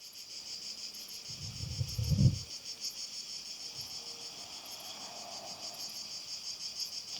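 A steady outdoor cicada chorus buzzes continuously in the background, briefly joined by a low rumbling thump partway through.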